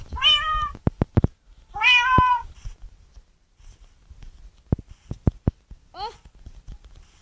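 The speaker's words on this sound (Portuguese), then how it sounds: "De novo esses gatos." Cats in Minecraft meowing repeatedly, with two long, clear meows early on, another near two seconds, and a shorter mew near the end, interspersed with sharp clicking taps, all fairly close and loud.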